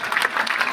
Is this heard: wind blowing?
no